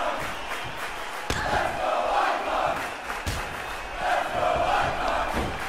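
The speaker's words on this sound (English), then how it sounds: "Listen to this crowd." A wrestling arena crowd roars and cheers steadily throughout, a loud, dense wash of many voices swelling in waves with sharp bursts of shouting, no single voice standing out.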